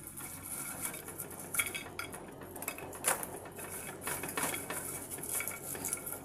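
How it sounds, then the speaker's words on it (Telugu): Kommulu snacks tumble into hot sugar syrup in a pan on a switched-off stove, giving close metallic scraping, clinks and stirring clatter in irregular bursts over a soft background hiss. "ఇప్పుడు ఈ పాకంలో మనం కొమ్ములు అనేటివి వేసుకున్నాం"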